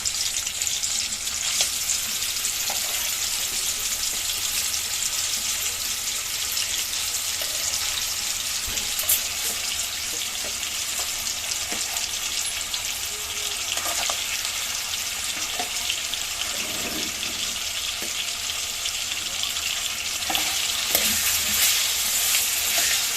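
Boiled mutton sizzles steadily in hot oil in a pot close by, with occasional scrapes and clinks of a spoon stirring throughout.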